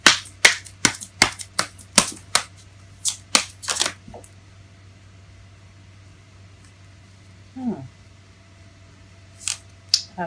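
Tarot cards are shuffled in a rapid series of crisp riffling snaps and flicks, about a dozen sharp bursts over the first four seconds, then a quiet pause broken by a soft slide and a few later card flicks, close by with a faint steady hum beneath.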